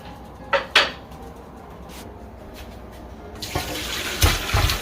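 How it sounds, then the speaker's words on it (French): Water is poured over plantains to rinse them, a soft hissing splash that swells near the end after a few light knocks and handling sounds, close by with no talking. "Je jette de l'eau."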